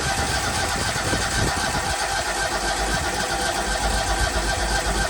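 A new ESAB 270G welder generator's engine starts and settles into a steady, fairly loud mid-pitched running drone that holds evenly throughout.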